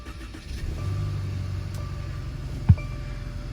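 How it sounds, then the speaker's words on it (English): A 2020 Mercedes GLC cranking and catching in freezing cold, settling into a low, steady idle rumble with a sharp click-like thud near the end. "I'll just quickly start my car as well"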